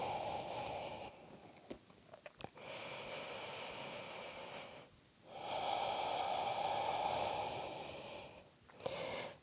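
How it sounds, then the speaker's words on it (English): Slow, deep breaths during a yoga flow in downward facing dog, two long airy exhalations of several seconds each, close and audible over a quiet background, separated by a brief pause and small rustles. "full breath out."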